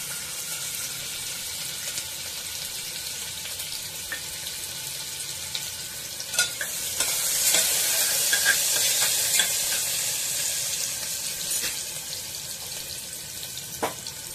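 Sliced onion sizzles in hot oil with a bay leaf in a pressure cooker while a spicy mutton dish is being prepared, making a steady close frying hiss with occasional stirring scrapes and clinks, louder midway.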